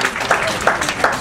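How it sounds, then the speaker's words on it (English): Brief applause from a workshop audience, a short burst of clapping with a few distinct louder claps standing out, close and fairly loud. "Give them a big round of applause"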